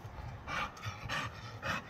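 An American Bully dog pants softly nearby, quick rhythmic breaths in several short bursts, low and close, with no talking.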